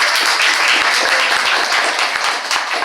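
An audience at a university event in Barranquilla applauds a professor, loud, close, sustained clapping from many people with a few sharper individual claps standing out, easing slightly near the end.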